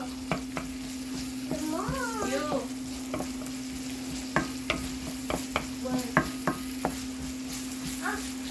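Onion and garlic frying in hot oil in a pan for a homemade pancit canton, a steady sizzle with a constant hum beneath, scraped and stirred by a utensil with scattered clinks, and a brief cat-like meow in the middle.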